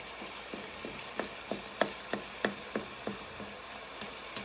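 Ground beef browns in a pan, with faint sizzling under a series of regular, fairly quiet taps and scrapes as the meat is chopped and stirred.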